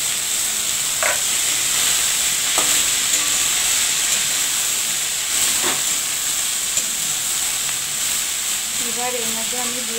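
Greens are poured into a pan of oil with fried lentil dumplings and green chilli. A loud, continuous sizzling hiss runs throughout, broken by a few faint clinks and stirring scrapes.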